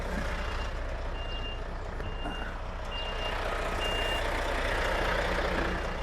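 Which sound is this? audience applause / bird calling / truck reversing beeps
truck reversing beeps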